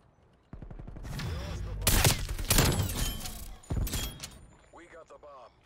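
Rapid automatic gunfire in a Call of Duty: Black Ops Cold War Search and Destroy match, loud dense bursts repeating over several seconds, with voices talking over and between the shots.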